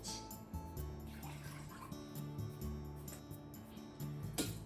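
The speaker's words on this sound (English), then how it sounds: "Put some water, about 1 inch." Water poured into a pressure cooker to a depth of about an inch, a steady close splashing pour with low gurgling resonance lasting throughout, ending in a brief clatter.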